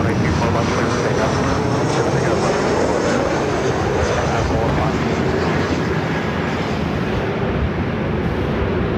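A Lufthansa airliner takes off from runway 24 left at LAX, a loud continuous jet roar filling the whole stretch, with voices talking over it.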